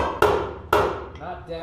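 Two sharp metallic hammer taps on car body sheet metal about half a second apart, each ringing briefly, followed by a faint softer knock.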